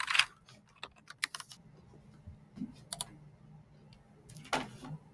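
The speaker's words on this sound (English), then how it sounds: "type in" Quiet, scattered keystrokes on a computer keyboard, a few irregular clicks and short bursts of taps heard close by in a still room.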